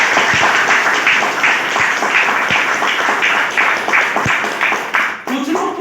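An audience at a motivational talk breaks into loud, sustained applause, a dense wash of many hands clapping close and continuous, tapering slightly at the end.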